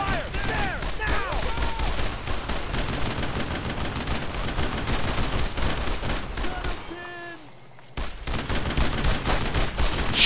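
Dense, continuous gunfire in the World War II shooter Brothers in Arms: Road to Hill 30, with rapid rifle and machine-gun bursts crackling nonstop and a brief lull near the end before shooting resumes.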